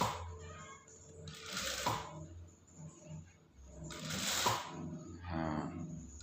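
Sewing machine stitching the front placket of a mandarin-collar shirt, two loud whirring bursts of stitching separated by quieter handling noise, close by.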